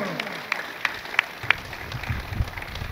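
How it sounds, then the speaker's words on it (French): A crowd applauds a pastor at a church gathering in Luanda, Angola, with sharp claps and cheering building over a few seconds while a voice speaks over it. "Acclamons très fort."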